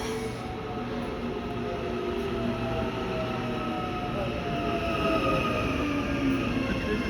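An Auckland Transport Western Line electric train arriving at Newmarket station in Auckland, New Zealand, with a steady rolling hum and faint wheel noise that swells gradually, heard from the platform.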